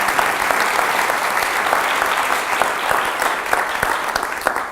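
Steady audience applause at a school event at Mid-Pacific, with dense, even clapping from a large crowd that carries on without a break.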